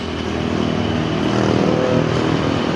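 A Yamaha NMAX version 2 scooter engine hums loudly and steadily while riding on the road, with a slight rise in revs midway and wind rush mixed in.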